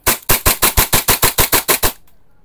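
A Hi-Capa gas blowback airsoft pistol fires about a dozen sharp semi-auto shots in a fast, even rhythm, each crack loud and close, then stops with a faint hiss trailing off.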